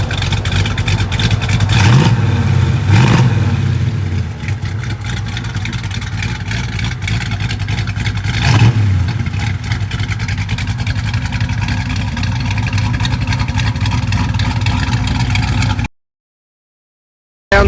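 A 1966 Chevrolet Chevelle SS 396 V8 running nearby, with a rough, rumbling idle broken by two or three sharp throttle blips early on and another midway, before it cuts off abruptly near the end.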